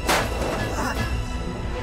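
An escape pod blows up in an animated story, a sharp loud blast at the start followed by a rumbling, crackling decay.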